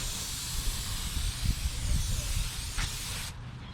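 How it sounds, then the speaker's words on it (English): Brake cleaner sprayed from an aerosol can onto a coated rear brake rotor of a 2009 Toyota Camry, a steady loud hiss for over three seconds that cuts off abruptly, with faint clanks underneath. "So I'm going to be cleaning this rotor. I'm going to be using some brake clean."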